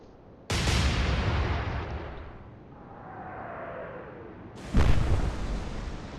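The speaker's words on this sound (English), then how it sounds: "Finally, a good salvo." Two heavy booming naval gun salvos from the Atlantic Fleet warship game, the first opening loudly with a long rumbling decay, a faint descending whistle between, then a second big blast.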